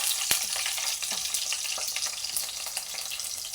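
Mustard seeds and garlic sizzle and crackle in hot oil, a dense steady frying hiss broken by sharp pops as the seeds burst, with no talking.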